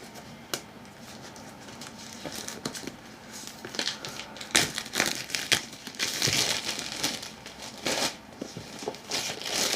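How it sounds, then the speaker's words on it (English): Plastic shrink wrap being peeled and torn off a heavy boxed Twilight 2000 tabletop game, a steady close crinkling and crackling with sharp tearing snaps. "Let's get the plastic off of this."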